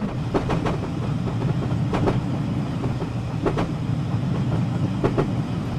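A simulated train on the Woodhead line rolls along with a steady low rumble, broken by rhythmic clickety-clack wheel beats over rail joints.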